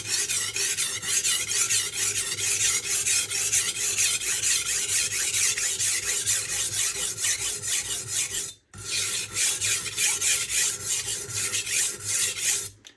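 A knife blade is honed on a Norton Crystolon double-sided oilstone, giving rapid, rhythmic back-and-forth rasping strokes, close and steady, with a brief pause near the end before the scraping resumes.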